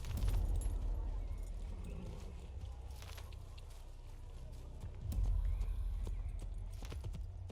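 Steady clip-clop of horse hooves at a trot in the video game Assassin's Creed, continuous and close, with occasional brief jangling.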